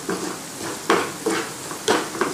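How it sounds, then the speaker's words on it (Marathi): Asafoetida, chili powder, turmeric and coriander powder frying in oil for a raw mango curry, a soft sizzle broken by a rhythmic series of spoon scrapes and stirring clatters against the pan, with no voices. "हे व्यवस्थित तळून घ्यायचंय."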